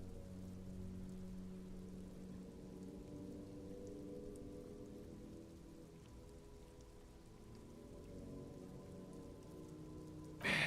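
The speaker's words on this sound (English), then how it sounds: "Stuck in the rain in a traffic jam" Steady rain from the video game Disco Elysium, a continuous soft patter on surfaces with a low hum beneath, lasting throughout with no talk.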